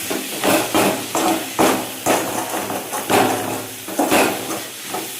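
Small tubers (siru kizhangu) being sautéed in a pan over low heat, heard as a rhythmic series of scraping, hissing stirring strokes about every half second, close and fairly loud.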